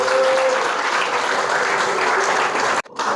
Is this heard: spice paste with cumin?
no